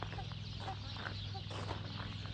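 A long-tailed rooster clucks softly several times in a farmyard, with short, quiet calls spaced over a low constant hum and no voices.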